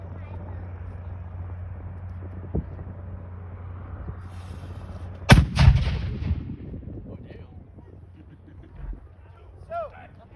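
A historic cannon fires at Fort McHenry National Monument in Baltimore: one sharp, loud outdoor boom with a rumbling tail, heard after a low background hum and followed by faint crowd noise.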